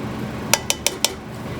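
Chopped potatoes, carrots and parsnips drop into a cooking pot in a kitchen, four sharp clattering knocks in quick, even succession, close and fairly loud over a quiet room hum.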